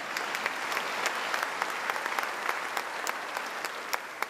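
A graduation ceremony audience claps for guests being introduced, steady mid-distance applause from a large crowd with a few sharper individual claps standing out, no talking over it.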